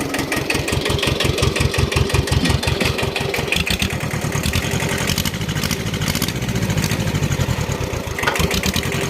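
An old Japanese walk-behind tractor engine starts and settles into a loud, steady running chug with rapid regular firing pulses, close by and alone without talk.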